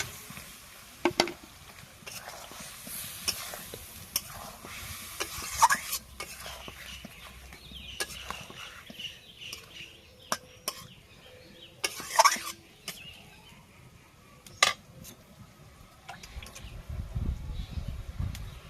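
Pointed gourds are added to a simmering spice mix in a pan, with a spoon stirring and scraping against the metal in scattered sharp clinks over a faint, steady sizzle, close and moderately quiet.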